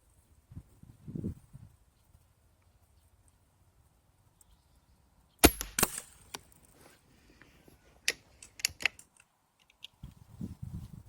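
A custom varmint rifle fires a sharp, loud crack in an otherwise quiet setting, followed by a scatter of smaller clicks and knocks, with another burst of sharp impacts a few seconds later and a low rumble at the end.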